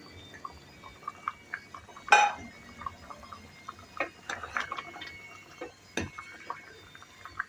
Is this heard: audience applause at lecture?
no